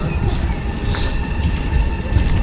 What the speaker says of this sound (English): Is there a train nearby?